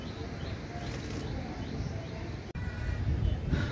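Pakistani teddy pigeons flap their wings in short, close bursts against a steady, noisy indoor background, with any cooing faint.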